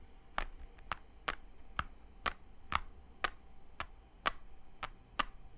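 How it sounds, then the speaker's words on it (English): Typing on a keyboard with TTC Noble Horse magnetic switches gives a dozen or so crisp, evenly spaced keystroke clicks, each a short sharp tap over a quiet background. "Even the top out sound is still there in terms of that magnetic top out sound"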